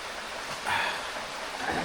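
Steady rain falling outside during a Konkan monsoon spell, a continuous soft hiss that swells briefly midway, with no voices.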